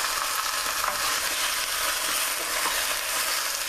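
Jamaican oxtails browning in a pot give a steady, loud, dense sizzle with faint scraping as they are stirred, continuous and close with no talk.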